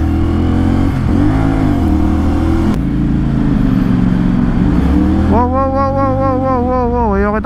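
A CFMOTO 450SR sportbike engine revs hard while riding, a loud continuous mid-pitched roar that rises and falls through throttle changes, with a sharper climbing rev toward the end and no talking.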